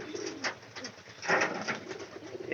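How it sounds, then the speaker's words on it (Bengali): Pigeons coo in soft repeated bursts, a steady low murmur of birds close by with a louder swell midway through, and no talking. "এই যে পায়রা এটা কিন্তু ডাক মোটামুটি এটা ডাক পারে"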